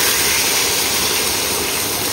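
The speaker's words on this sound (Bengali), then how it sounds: "এবার দিয়ে দেবো জল" Water rushes steadily into a cooking pot of curry in a single loud, close, continuous gush, with no breaks.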